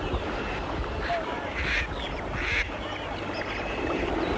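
Ducks give a few brief quacks in open countryside where wildfowl are hunted, heard against a constant broadband wash of outdoor noise, with two short bursts standing out midway.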